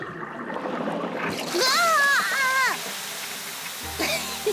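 Cartoon garden hose spraying and splashing water in a burst of hissing spray lasting about two seconds, with animated character voices speaking over it.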